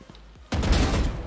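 Gunfire in the tactical shooter Valorant bursts in abruptly after a quiet moment, a loud, dense volley of shots filling the rest of the short clip.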